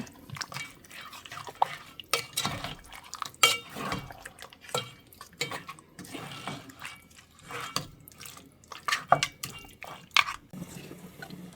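Water seasoned with salt and turmeric is poured into a cooking pot to braise mutton bhuna, with metal clattering, sloshing and dripping in irregular bursts close by.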